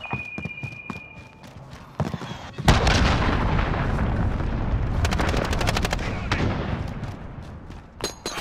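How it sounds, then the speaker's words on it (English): Cruise missile strike in Call of Duty: Modern Warfare begins with scattered gunshots. A loud blast follows, then rumbling explosions and rapid machine-gun bursts, a sustained roar of battlefield fire. "Allied cruise missile away"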